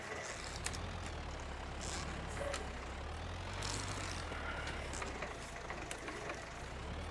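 A tractor engine in Farming Simulator 25 labours under a heavy trailer, a low steady drone that swells and eases, with faint clicks and hiss on top and no talking.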